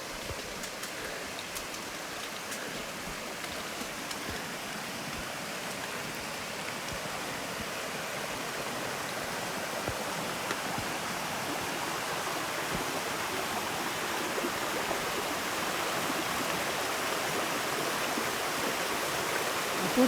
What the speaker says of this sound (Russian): Еще один небольшой водопадик.